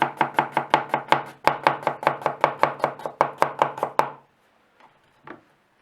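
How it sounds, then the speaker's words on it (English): A knife slices potatoes thinly on a cutting board in a quick, steady run of about twenty crisp taps. The run stops suddenly, then two faint isolated taps follow in near silence. "I'm gonna cut them in thin slices"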